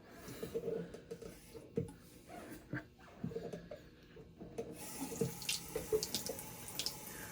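Tap water runs to wet a shaving brush before a bay rum face lather, a quiet, uneven splashing close by that grows brighter and fuller in the second half, with no talking.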